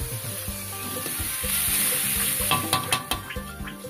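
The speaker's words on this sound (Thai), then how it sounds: "ผมมี พริกแห้งคั่วอยู่ด้วยครับ ก็เอามาผัดครับ" Garlic, chilies and roasted dried chilies stir-fry for a Thai frog curry with curry paste, a loud, close, continuous sizzle, joined toward the end by rapid clanks and scrapes of a utensil against the pan.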